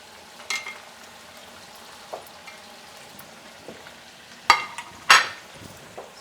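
Pork and liver frying and browning in a pan, a low, quiet sizzle broken by a few sharp spatters and utensil scrapes, the loudest bursts coming near the end.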